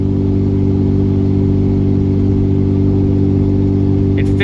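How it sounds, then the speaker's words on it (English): A 5.9 Cummins diesel truck with a custom tune and 50hp injectors drones loudly and steadily while towing under acceleration, a constant close engine rumble with no voices. "I'm accelerating now."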